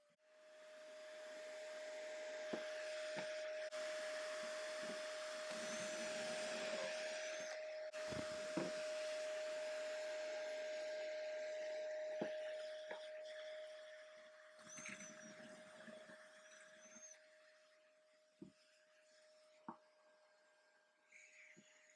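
A drill whines steadily for several seconds while boring pocket holes for a shop cabinet, then stops, leaving scattered clicks, knocks and brief bursts of drilling nearby with no talk.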